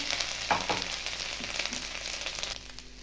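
Ground ginger and green chili paste frying in hot oil seasoned with asafoetida gives a steady, close sizzling hiss with a few sharper crackles that fade slightly toward the end.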